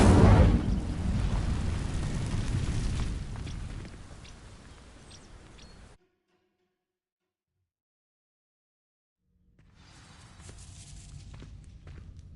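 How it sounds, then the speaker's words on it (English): An Incendio fire spell sets dry vines ablaze in Hogwarts Legacy: a loud rushing burst of flame erupts, then a crackling, rumbling burn fades over several seconds and stops, followed after a silent gap by quiet ambient rustle. "These dry vines are one spark away from becoming kindling. Incendio!"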